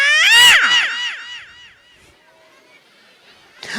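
At a stage comedy show, a man vocally imitates fighting cats: a loud burst of rising and falling yowls and screeches that fades into quiet, then a sharp new sound starts at the end.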